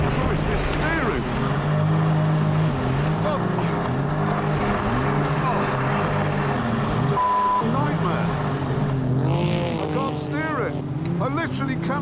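A speedboat with a badly designed, spray-throwing hull roars across the water at planing speed, its engine drone rising and falling, with someone talking loudly over it.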